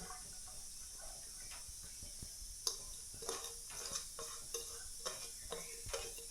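Finely chopped onion, coriander and green chilli being mixed in a bowl, heard as soft, rhythmic taps and scrapes from the spoon over a faint steady hiss.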